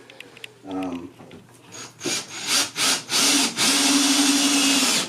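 A drill drives screws through bed slats into a wooden frame, whirring in several short pulses that build into a longer, loud close burst as the screw seats, with brief whine at the start.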